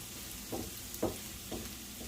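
Vegetables cooking in a pan, a faint continuous sizzle with a few soft stirring knocks at regular intervals, no talking.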